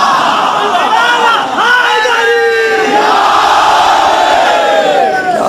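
A large crowd at a religious majlis loudly chanting slogans in unison, voices rising and falling together in sustained, dense waves.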